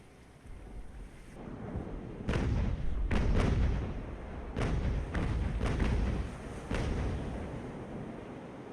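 Naval cannon and musket fire in an age-of-sail battle game, heavy booming thuds repeating irregularly over rumbling background noise, loud and fairly close, with no voices.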